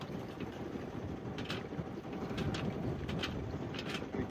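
Steady wind rushing past the microphone aboard a Compass 29 yacht sailing into a 6–7 knot breeze in Sydney Harbour, a constant broadband roar with faint water and rigging noise, no talking.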